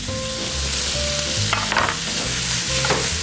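Pork liver tossed into a hot pan with gizzards, garlic and onions for Filipino pancit canton, giving a continuous close sizzle and fry with scraping stirs and a few clatters of the utensil against the pan.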